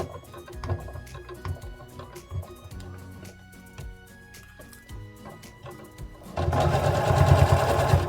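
A sewing machine stitches around a fabric bear in short bursts with pauses for pivoting, then runs in a longer, louder continuous stretch at the end, close and clear.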